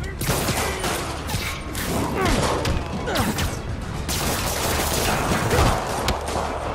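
Dense gunfire bursts mixed with rocket blasts and crashing impacts from a Spider-Man PS4 fight, loud and continuous throughout with sharp transient hits and occasional heavier thuds.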